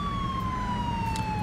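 A modded police cruiser in GTA 5 wails with a steady electronic siren tone that slowly falls in pitch, heard over a low engine rumble.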